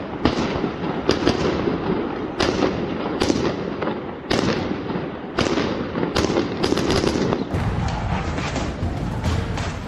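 Fireworks burst in the sky over Al-Aqsa Mosque in Jerusalem, a dense, continuous barrage of loud booms and crackling pops in rapid irregular succession for the full span.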